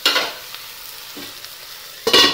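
Eggplant slices salted and fried in oil in a home kitchen give off two short bursts of sizzling, at the start and again at the end, with a quieter stretch of faint crackle between them.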